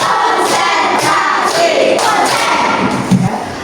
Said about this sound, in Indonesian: mari kita bersama-sama tepuk konsentrasi terlebih dahulu